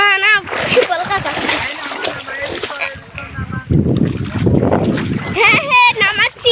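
A cow is bathed in a river, water splashing loudly and repeatedly close by as people talk over the sloshing and churning.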